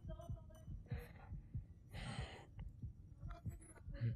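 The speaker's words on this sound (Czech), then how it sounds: "to je srdeční tep" A low, steady heartbeat throbs in the VR video game Jurassic World Aftermath, a regular thumping pulse with soft hissy game noises and a faint hum over it.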